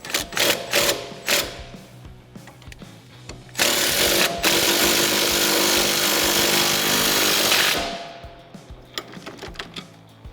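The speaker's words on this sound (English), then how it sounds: "I'm going to use my 10 millimeter and just tighten it up" Nut on a 2006-2022 rear-wheel-drive Charger lowering spring install tightened with a 10 mm tool, a run of sharp metallic clicks and ratcheting bursts around a several-second continuous whirring spin, loud and close, with no talking.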